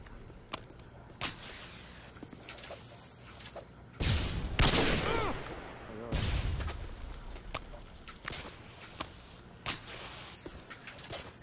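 Pistol shots fired in a video game trick trial in a Superman-themed lobby: a string of sharp, irregularly spaced cracks across the whole stretch, with a louder, denser burst of noise partway through.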